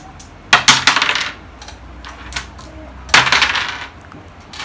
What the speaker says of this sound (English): Come roll the dice.